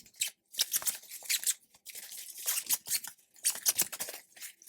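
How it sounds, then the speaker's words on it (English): Zips on a set of luggage bags, one large and two medium, pulled open and shut in quick bursts of rasping zipping, close and fairly quiet with short pauses between strokes. "I'm going to check the zips quickly on these"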